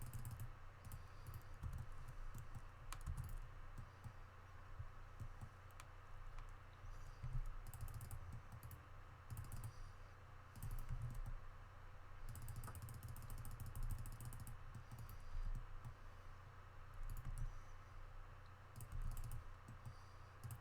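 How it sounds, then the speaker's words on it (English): A computer mouse and keys click during play of the online game ArcheAge Unchained, producing quiet, rapid clicks in irregular bursts over a low steady hum. "Well, let me just keep clicking it."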